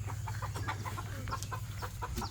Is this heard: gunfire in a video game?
no